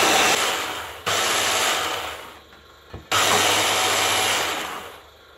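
A kitchen blender whirs loudly, chopping eggplant with garlic for a spicy winter preserve, running in two long bursts with a brief pause between them. A low clunk falls in the gap, and no one talks over the motor.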